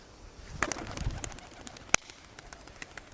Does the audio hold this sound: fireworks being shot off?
no